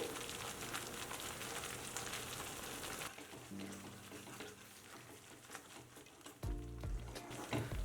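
Tomato and onion masala frying in oil on a low flame, a steady soft sizzle with occasional stirring and scraping, fairly quiet throughout with no talk.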